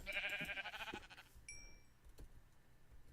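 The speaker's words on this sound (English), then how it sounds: "how many sheep are in the area?" A Minecraft sheep gives a close, clear bleat in the first second, followed by quiet game sounds and a brief high tone.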